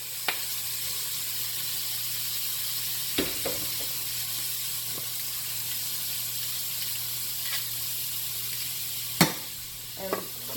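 A stick of butter melts in a pot on the stove with a steady soft sizzle and hiss throughout, broken by a few sharp clicks and clinks of utensils against the pot.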